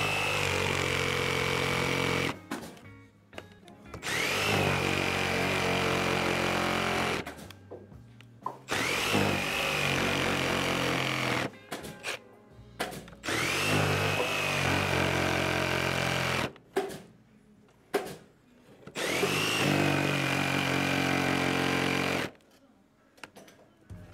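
A power drill driving out screws from wooden stair framing, several loud whirring bursts of a few seconds each separated by short pauses.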